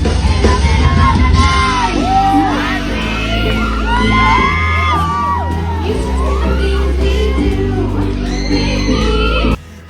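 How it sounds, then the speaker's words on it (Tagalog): A studio audience at the noon variety show It's Showtime screams and yells loudly and continuously over pounding stage music as the birthday production number starts. "sigawan na ang mga tao sa Showtime"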